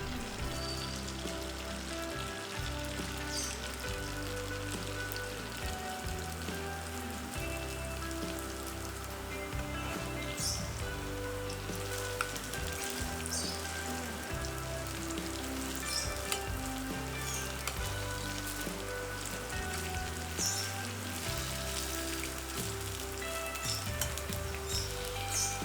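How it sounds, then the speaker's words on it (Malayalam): Noodles coated in cornflour deep-frying in hot oil give a dense, even sizzle like steady rain, with faint bubbling crackles throughout, close but quiet, no speech. "ഇനി ചൂടായ ഓയിലിൽ നൂഡിൽസ് ഇട്ട് വറുത്തെടുക്കാം."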